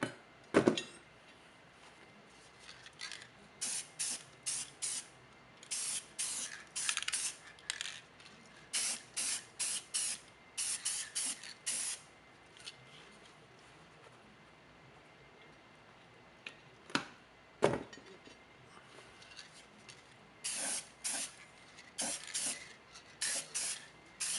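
An aerosol can sprays primer onto car parts for a BMY rebuild in repeated short hissing bursts of varying length, separated by brief pauses and faint clicks, close and clear with no talking.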